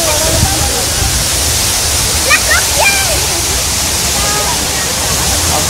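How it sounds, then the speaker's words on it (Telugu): A waterfall at Castle Hill in Nice pours in a steady, full broadband rush that runs unbroken, with faint birds chirping over it. "వాటర్ ఫాల్ అయితే మామూలు లేదు"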